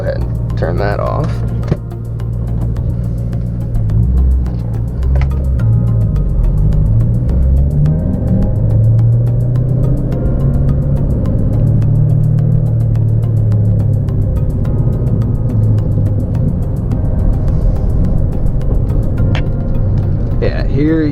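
A Ford Mustang engine rumbles loudly and revs while driving, a steady deep roar that rises and falls through the whole stretch, with a voice talking over it.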